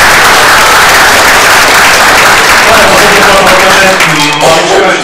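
Applause from a public discussion audience, a loud continuous wash of many hands clapping that stays steady, then tapers slightly as voices begin to emerge underneath toward the end.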